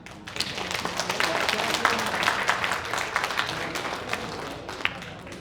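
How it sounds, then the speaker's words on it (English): Scattered audience applause at a Chinese cultural center anniversary celebration, fairly soft and uneven, with individual claps standing out and some voices underneath. "Can we give another big applause?"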